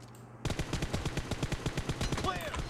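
Rapid automatic gunfire in the PUBG video game rattles out in a fast, even burst of about a dozen sharp shots, loud and close, after a brief quiet start.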